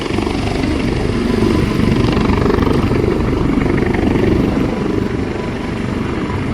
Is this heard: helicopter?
yes